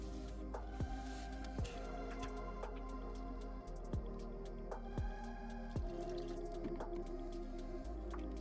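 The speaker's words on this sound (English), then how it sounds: "get the fill plugged in so it stops dripping" Car fluid drips from an open transmission fill plug hole during a fluid change, a slow, irregular series of small distinct drops ticking against a quiet, steady background.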